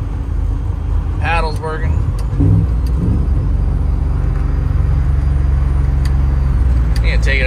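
A ZR1500 truck cruising on the road at 80 mph gives off a steady, smooth low engine and road drone, with someone briefly speaking over it and a few light clicks.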